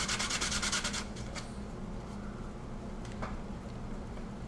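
Sandpaper worked by hand on a Boba Fett replica prop part to remove flashing: a quick burst of rapid, close rasping strokes, then quieter scattered rubs against a steady background hiss.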